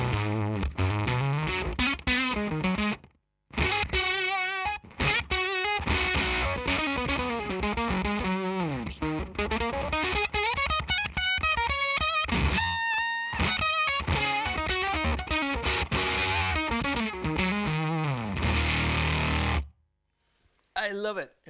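An electric guitar on the neck pickup, played through an octave effect with harmonics, gives dense distorted, heavily processed lines with sliding pitches and brief pauses. It is loud and continuous, and a speaking voice shows up in places.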